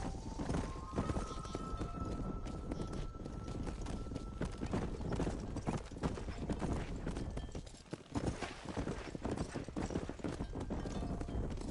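Horses' hooves clip-clop steadily and quite loudly as they are ridden out toward a pasture, an even rhythmic clatter with a faint neigh and little talk.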